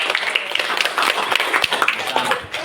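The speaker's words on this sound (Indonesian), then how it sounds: "Nah, tepuk tangan dulu." A group of people clapping hands together in a classroom session, a steady, busy patter of many claps throughout, fairly close and even in loudness.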